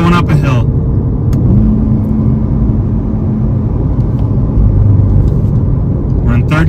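A stock Chevrolet C8 Corvette with sport exhaust rumbles steadily in third gear around 2500 RPM while climbing a hill, its loud, close engine drone broken by scattered exhaust crackles and burbles as revs fall.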